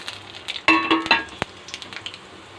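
Whole spices dropped into hot mustard oil for dhaba-style chole, giving a sharp burst of sizzling with a metallic clink of a pan or spoon, then quieter crackling frying close by.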